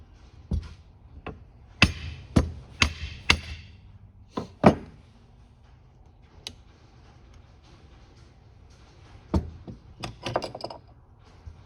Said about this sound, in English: what we're going to use instead is going to be this plastic and rubber end here